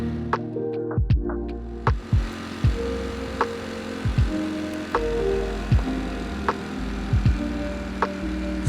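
A 2018 Ducati Panigale V4 S in street mode idles with a deep, throbbing engine note, broken by repeated short blips and revs at roughly one-second intervals, close and loud, with no talking.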